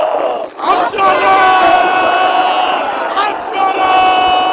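A large crowd shouts a chant in unison, loud and close, with voices rising and falling together in a rhythmic cry that fills the whole clip.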